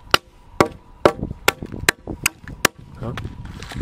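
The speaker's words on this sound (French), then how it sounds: "Et après, je viens tout faire sauter avec le marteau." A hammer knocks out sawn notches in a wooden post, about eight sharp, hard blows landing close at a steady, uneven pace, with softer wood cracks and knocks between them.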